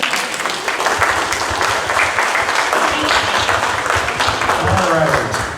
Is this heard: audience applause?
yes